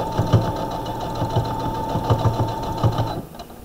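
An embroidery sewing machine stitches through the thick seams of a monogram bag, a rapid mechanical chatter with regular thumping needle strokes, close and steady, then easing off at the end.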